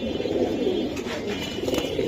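Pigeons at a pigeon market coo in a steady, overlapping murmur that runs unbroken through the whole stretch, close and fairly loud against a busy outdoor background.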